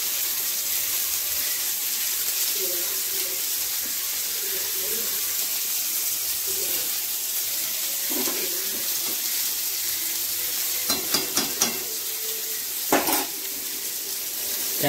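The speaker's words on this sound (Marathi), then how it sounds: "या पद्धतीने मित्रांनो आपण फिश टाकत आहोत" Fish pieces simmer in bubbling curry gravy in a pan, giving a steady, moderate sizzling hiss. A few sharp utensil clinks and taps come near the end.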